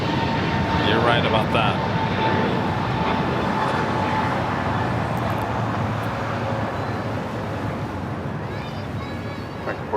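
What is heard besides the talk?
Boeing 737 jet airliner coming in to land at LAX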